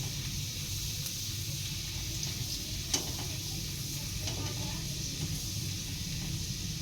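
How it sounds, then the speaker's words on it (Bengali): Chopped garlic frying in oil alongside pumpkin, a steady close hiss of sizzling with an occasional faint click of a utensil against the pan. "আমি কুমড়োর সাথে রসুনটা ভেজে নেব।"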